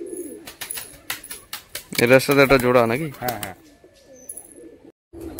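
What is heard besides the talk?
pigeons cooing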